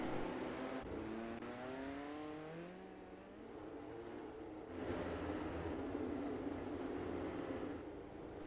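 Engines of sim-racing midget cars on the Eldora dirt oval in a racing video game roar steadily, pitch sweeping up and down as they rev and pass, loud and continuous throughout with no talk.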